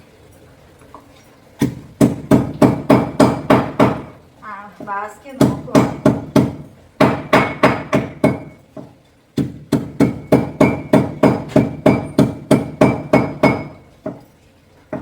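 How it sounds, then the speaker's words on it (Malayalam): Rapid, heavy stone-on-stone pounding of dried red chillies in three long bursts of steady rhythmic thuds, close and loud, with a brief spoken phrase between bursts. "ആദ്യം നമുക്ക് ഉണക്കമുളക് ഇടിച്ചെടുക്കാം."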